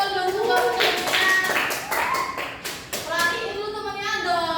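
Students applaud in a classroom during an Indonesian microteaching lesson. Short bursts of clapping mix with children's and adults' voices talking over them.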